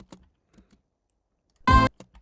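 A layered finger-snap sample built from three stacked layers lands as one sharp, bright crack near the end, preceded by a few faint, scattered clicks in near silence.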